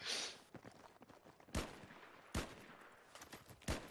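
Gunfire in a video game: sharp loud shots in several separate bursts, each cracking out over quieter shuffling and footsteps in between.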